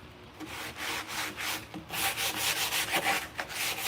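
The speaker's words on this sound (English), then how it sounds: "and sand my tracks" Rhythmic scratchy strokes of a sanding block rubbing back and forth on wood, close and steady, with no talking.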